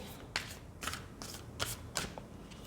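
Tarot cards being shuffled and drawn, several crisp riffling bursts at uneven intervals, close and fairly quiet, with no speech.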